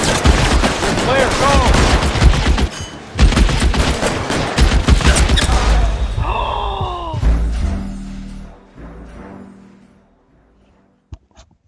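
Heavy automatic gunfire in the video game L.A. Noire, loud rattling bursts piling up densely, then tapering into scattered shots and fading to near silence.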